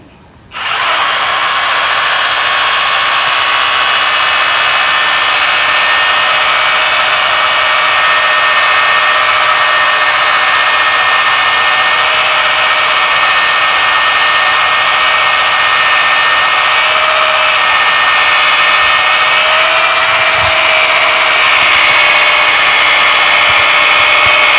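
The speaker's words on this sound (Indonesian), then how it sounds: "Besi 5 mili kita bor sekalian dah." A cheap Hujia cordless drill bores into 5 mm iron, a continuous high motor whine that starts abruptly and runs steadily for over twenty seconds, with a few faint knocks near the end.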